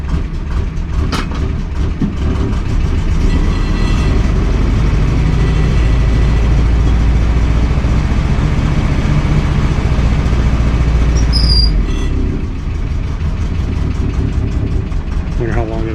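1953 Willys Jeep CJ-3B engine running after a restart with full choke, a loud, steady low rumble idling throughout, close by.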